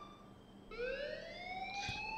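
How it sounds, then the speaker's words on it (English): An alarm blares inside a school in the Life Is Strange video game, a rising electronic siren tone that begins abruptly and holds steady and moderately loud, with a brief thump near the end. "please turn off that alarm since that's your job"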